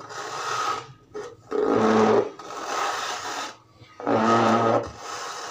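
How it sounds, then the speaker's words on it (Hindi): A sewing machine stitches folded fabric with pintucks for a baby frock, running in three loud bursts separated by short pauses, close and alone with no talk. "पहले थोड़ा सा ऐसे फोल्ड किया, फिर ऐसे करने के बाद हमने यहाँ पर सिलाई लगा देनी"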